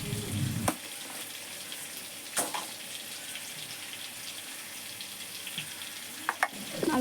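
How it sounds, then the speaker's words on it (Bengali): Potatoes frying in oil in a home kitchen with coriander added, a quiet steady sizzle broken by a few sharp clinks and scrapes of utensils. "আলুটা প্রায় ভাজা হয়ে গেছে"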